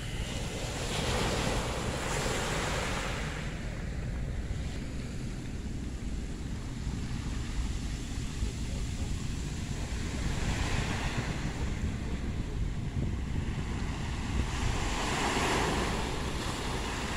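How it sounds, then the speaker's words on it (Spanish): Sea waves crash against the stone seafront promenade at Punta Callao in Lima, Peru: a constant heavy roar of surf with periodic louder surges breaking, wind buffeting the microphone throughout. "esta es una vista que les puedo ofrecer del malecón donde chocan las olas del mar"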